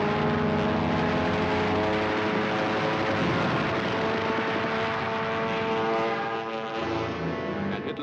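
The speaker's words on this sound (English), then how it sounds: "Spitfire." A Spitfire fighter plane roars overhead in wartime Britain, its propeller engine a loud, steady drone with a strong harmonic whine that holds for several seconds before easing slightly, no voices over it.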